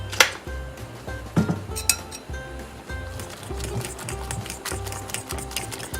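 Clinking of utensils against a bowl while pesto sauce is stirred into omelette ingredients, a steady run of light taps and scrapes with a few sharper knocks, close by and with no voices.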